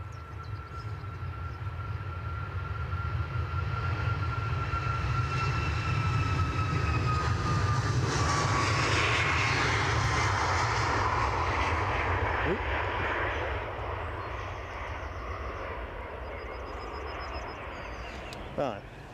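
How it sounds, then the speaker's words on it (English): Qatar Airways Airbus A350 on its takeoff roll at an airport, a distant steady jet roar swelling and then slowly fading, with someone speaking quietly at times. "You'll probably see the Qatar 350 in the shot as this goes through its takeoff."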